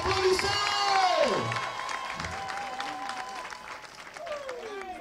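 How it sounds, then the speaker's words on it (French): An audience bursts into applause and cheers after a speech, a brief loud swell of crowd noise that fades back as tonal voices or whistles carry on over it. "C'est fini, applaudissez!"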